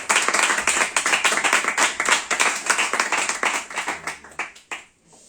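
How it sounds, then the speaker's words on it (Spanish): Audience applause for author Juan Pablo Villalobos at a literary event, a dense steady wash of many hands clapping for about four seconds before thinning into a few last claps and fading out. "lo único que voy a pedir es el aplauso que él se merece."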